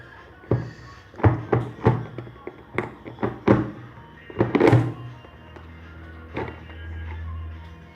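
Cardboard box for an HTC One M7 phone being opened by hand, a close series of irregular hollow thunks, taps and scrapes, then a quieter low rumble near the end.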